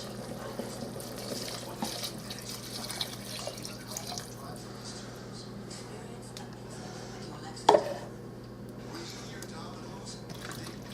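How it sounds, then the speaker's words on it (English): Beef stock pours into a 4-quart pressure cooker pot with a soft, steady liquid trickle, low and close, while a voice talks over it and a brief clink sounds near the end. "Now you're going to put 2 cups of beef stock."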